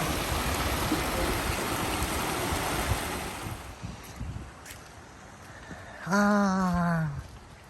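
Rushing water from a stream feeding Tianjara Falls in New South Wales, Australia, pours in a steady broadband hiss that fades somewhat, then a voice briefly speaks over it near the end.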